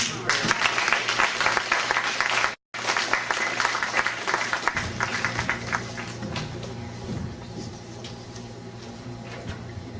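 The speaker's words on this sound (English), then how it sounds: "Everybody please give a round of applause to Mr. Demetrius Martin." Applause from an audience at a 2011 community anti-violence event, dense clapping filling the room, dropping out for a moment then carrying on and thinning toward the end with some low voices underneath.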